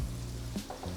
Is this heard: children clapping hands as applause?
no